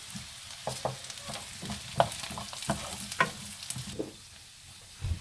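Onions and green capsicums sizzle in a pan as they are stirred, with a soft frying hiss underneath and repeated scraping knocks of the spoon at a close, moderate level.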